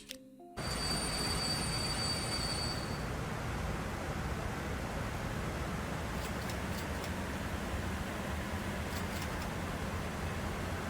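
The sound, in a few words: train passing by in a video game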